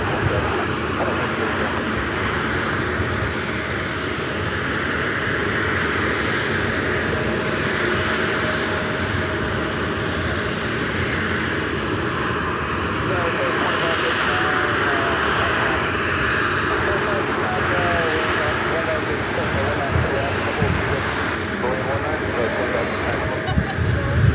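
A Delta Boeing 757 jet landing at LAX from Seattle gives a steady broad engine roar through the whole stretch, while people talk over it.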